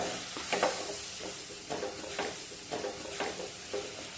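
Curry leaves and coconut oil are stirred into a cooking pumpkin and bean dish, with a soft continuous sizzle and a few scraping stirs of a spoon against the pan, close and fairly quiet.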